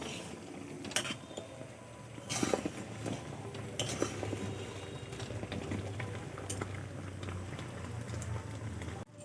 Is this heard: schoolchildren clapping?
no